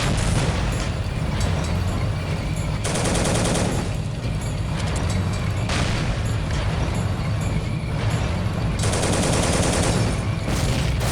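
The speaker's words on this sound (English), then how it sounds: "That was an AT grenade. As you can see, because it blew up on impact with the surface." Loud battle noise from the World War II game Soldiers: Heroes of World War 2 at Villers-Bocage, with an anti-tank grenade detonating on impact amid dense gunfire and several booming bursts that recur every few seconds.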